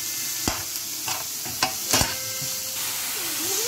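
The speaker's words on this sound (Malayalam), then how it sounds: "ഇനി നമുക്ക് നല്ലോണം ഒന്ന് വഴണ്ട് വരണവരെ നമുക്കൊന്ന് ഇളക്കി കൊടുക്കാം" Shallots and onions sauté in a pan, a soft steady sizzle with several sharp scraping taps of a spoon stirring them, close and without talking.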